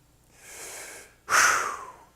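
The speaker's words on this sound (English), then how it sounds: "go ahead and give yourself some oxygen. Take a deep breath." A single deep breath: a softer inhale followed by a louder, rushing exhale, close up with no talking.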